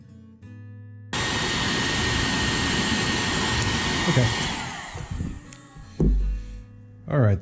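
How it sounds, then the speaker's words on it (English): A hair dryer blows steadily with a loud, broadband whoosh for several seconds, then cuts off, followed by a few brief thumps and handling noises. "then we'll take the hair dryer"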